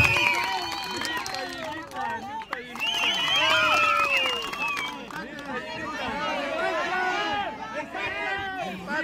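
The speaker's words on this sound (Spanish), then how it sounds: "Un aplauso para Misael." A Chicocana competition crowd claps, cheers and whistles for a competitor, with steady loud noise and babbling voices throughout.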